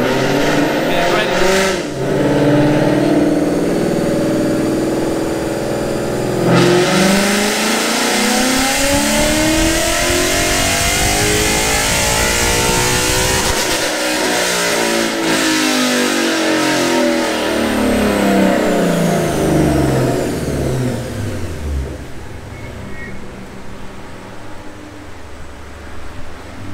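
A 2014 Ford Mustang GT running E85 fuel revs hard on a dynamometer, its engine roaring loud and close as it sweeps up through the rev range in long pulls, then falls away toward the end.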